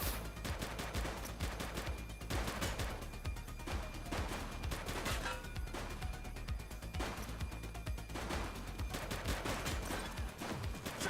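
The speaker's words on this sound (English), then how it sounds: "Shots fired!" Gunfire in the police game The Precinct: rapid, sustained bursts of shots and automatic fire crackle nonstop for about eleven seconds, loud and dense, with several bursts overlapping.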